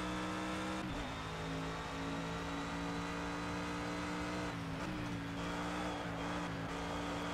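GT3 race cars in Project CARS, a constant high engine drone with shifting pitch and brief dips as gears change, loud and unbroken, with no talk.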